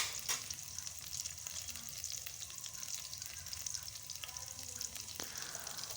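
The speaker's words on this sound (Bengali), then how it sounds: "এবার এর মধ্যে দিয়ে দেব রসুন কুচি।" Chopped garlic sizzling in hot oil in a pan for a red amaranth greens stir-fry, a steady frying hiss with occasional soft stirring clinks, fairly quiet and without talk.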